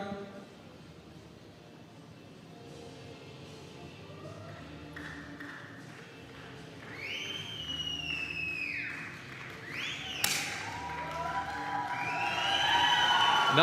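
Indian spectators at a men's 10m air pistol shooting final react, with murmuring building into rising cheers, shouts and whistles. The noise grows louder toward the end, and a sharp tap cuts in partway through.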